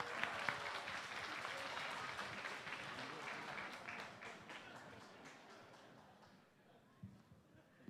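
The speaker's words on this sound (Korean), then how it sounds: "우리 큰 박수 부탁드립니다" Church congregation at a Korean anniversary and Parents' Sunday service applauds volunteers coming forward, broad clapping that starts strong and gradually fades, with a few scattered claps near the end.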